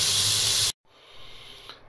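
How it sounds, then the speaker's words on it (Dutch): Koftas and chicken fillets sizzling in a frying pan give a loud, steady hiss that cuts off abruptly, followed by a quieter, fainter sizzle. "dat de kofta's en de kipfiletjes in de pan liggen te bakken"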